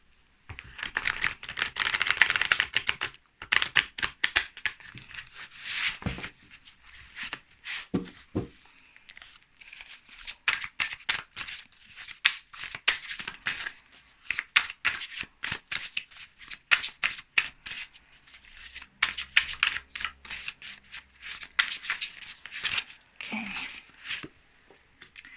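Tarot cards shuffled and handled during a love reading, a dense run of riffling, flicking and soft slapping bursts that continues through most of the stretch, fairly close, with brief pauses between shuffles.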